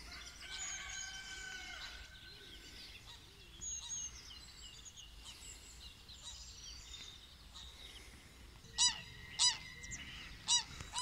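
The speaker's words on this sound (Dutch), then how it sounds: "Wilde gans." Wild geese honk outdoors among other fowl, scattered calls and clucks at moderate distance, ending with three loud, evenly spaced honks close by.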